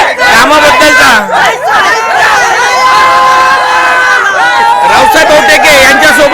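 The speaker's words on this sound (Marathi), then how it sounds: "हे बघितलं आपण चेंदूरवाडा सर्कलची जनता आहे, हा आनंदी जल्लोष आहे" A village crowd at a political rally in Chendurwada circle cheers and shouts loudly, with many voices and children's shouts overlapping into a dense, continuous roar.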